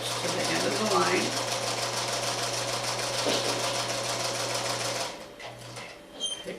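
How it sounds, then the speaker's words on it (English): Loud, steady whirring and rapid needle chatter of a sewing machine stitching a pineapple quilt block to the end of a seam, then halting, followed by a few faint handling sounds. "And we will stitch to the end of the line."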